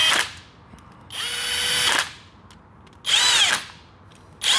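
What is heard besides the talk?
impact gun tightening bolts on Triumph motorcycle stator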